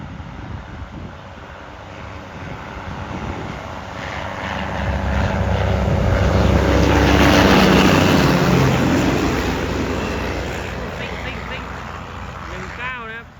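A diesel locomotive with a rough, hoarse exhaust rumbles closer, swells to a loud roar midway, then gradually recedes, with wind buffeting the microphone.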